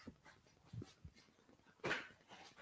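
A dog named Monty pants and whimpers nearby in soft, irregular breaths and small whines, with one louder whimpering burst in the middle; no talking.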